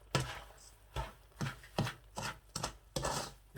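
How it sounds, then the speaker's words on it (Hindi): Semolina stirred into sugar syrup for lakri halwa, a steady rhythm of about eight thick scraping strokes of a spoon against the pan, close and fairly quiet. "इस तरह अच्छी तरह से मिक्स करना है सूजी को"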